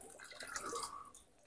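Water runs from a turned-on garden tap, a soft, close trickle with faint splashing, lasting briefly on its own.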